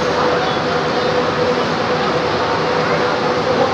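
Steady, loud rumble of an LRT light rail train rolling past nearby a street with buses, a continuous broadband roar with no talk over it.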